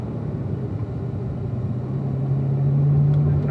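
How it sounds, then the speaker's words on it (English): A car with an automatic transmission accelerates around a track, engine rumbling loud and close with a steady tone that climbs and strengthens toward an upshift near the end. "As we accelerate toward turn 6, my autos will upshift back to 4th."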